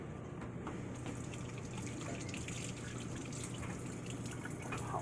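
Hot water running from a kitchen tap during handwashing before cooking shrimp scampi, a quiet, steady splashing stream with faint drips, alone with no talking.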